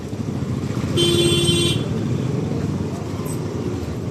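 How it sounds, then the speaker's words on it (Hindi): Heavy, hazardous road traffic rolls past in a continuous roar of engines and motorcycles, with a sustained horn blast partway through and a voice talking over the din. "यहाँ पे ट्रैफिक देख ही रहे हो आप, बहुत खतरनाक ट्रैफिक।"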